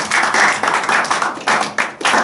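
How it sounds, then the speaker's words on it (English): A church congregation claps for Christ, a bright, steady round of close applause that comes in uneven surges. "Let's give an applause to Christ for all you have done"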